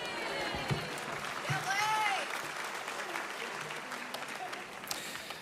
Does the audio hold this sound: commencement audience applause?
yes